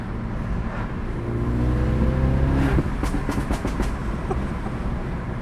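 A MINI F54 Clubman Cooper S with a stage 1 tune, its engine droning up through the revs before a quick string of sharp exhaust pops and crackles breaks out at low revs, loud and close, with no talk.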